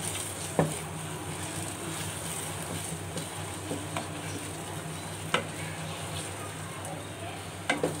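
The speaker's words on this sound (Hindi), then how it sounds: "अब मैं इसमें बादाम और पिस्ते भी ऐड कर रही हूँ। और इसको भी हम मिक्स कर लेंगे।" Almonds and pistachios being stirred into semolina halwa in a pan, a soft continuous sizzle with scattered light scraping clicks from the spoon, fairly quiet and steady with no talking.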